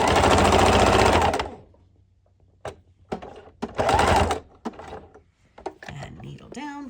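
A hand-cranked sewing machine stitches through a thick quilted bag with batting inside, first a loud steady mechanical run, then short bursts of stitching separated by pauses.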